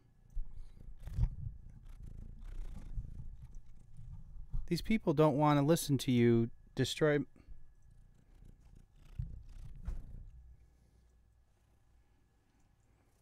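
An agitated house cat makes a brief burst of purring and rough growly vocal noise in the middle, under faint background talk from a live stream, with someone speaking nearby.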